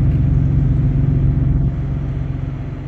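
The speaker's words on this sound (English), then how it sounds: "Saw a beer truck go." Beer truck driving past, a loud low engine rumble that holds steady and then eases slightly as it moves by.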